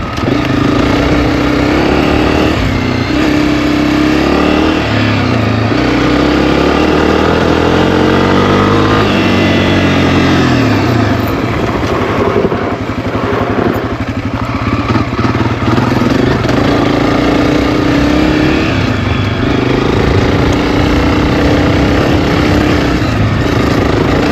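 Honda CRF250F trail dirt bike engine running and revving up and down, a steady close mid-pitched drone with rising and falling pitch sweeps and no talk.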